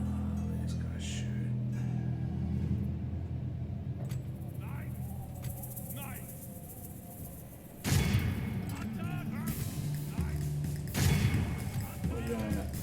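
Soldiers fire in a medieval battle from the game Medieval 2 Total War, giving scattered booms and cracking volleys among the din of combat, with someone talking over them throughout.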